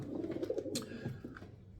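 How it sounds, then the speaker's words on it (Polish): Soft, low pigeon coos roll in a short murmuring phrase, fairly close, with a faint chirp midway. "O gołębie są tutaj, gołębie są w domu"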